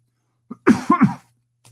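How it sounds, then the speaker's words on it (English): A single short burst of coughing, two or three quick harsh hacks close to the listener, then quiet. "Excuse the cough."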